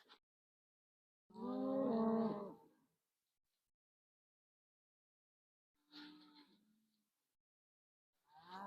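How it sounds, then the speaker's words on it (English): Cows low from a pasture close by, with one long harmonic moo followed later by a shorter call and the start of a third, each clear against a quiet background. "Can you guys hear those cows?"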